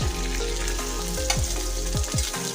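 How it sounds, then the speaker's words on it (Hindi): Chopped onion, garlic and green chillies fry in hot oil in a pan, a dense continuous sizzle with scraping stirs of a spoon against the pan recurring every half second or so, close and steady without talking. "अब मैं प्याज, लहसुन और हरी मिर्च को अच्छी तरह से फ्राई कर लूँगी।"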